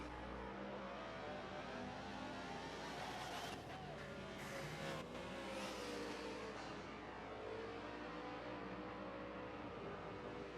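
Race cars lap Laguna Seca in a racing video game, a continuous loud engine whine with shifting revs and passing cars blended into one dense, sustained roar, with faint commentary beneath.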